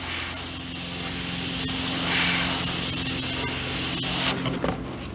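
An airbrush sprays paint held close to the surface while working with a freehand shield, giving a steady, close hiss with a faint motor hum beneath it throughout.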